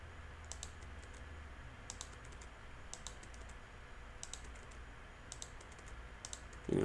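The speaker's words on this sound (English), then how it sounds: "You're gonna have to hear my keyboard for a little bit." Bursts of typing on a computer keyboard, quick runs of soft clicks separated by short pauses, close and fairly quiet over a low room hum.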